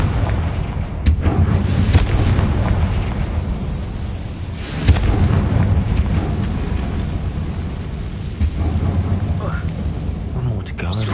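Confringo blasting spell explosions from the Hogwarts Legacy video game come as heavy booming rumbles with loud bursts, over a dense, continuous roar of game effects.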